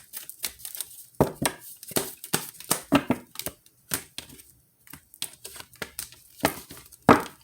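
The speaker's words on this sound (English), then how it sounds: "I was just shuffling the cards first" A deck of tarot cards is shuffled by hand in a quiet room, giving irregular bursts of crisp riffling and flicking clicks with short pauses between, close and moderately loud, no voice.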